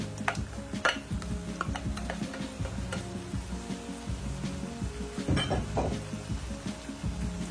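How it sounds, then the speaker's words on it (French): Basmati rice being turned in a pan with beef, green beans, garlic and ginger, producing faint scraping and clinking strokes over a low sizzle, close up with a light steady background hum. "je le tourne avec la viande, avec l'haricot vert, l'ail, gingembre"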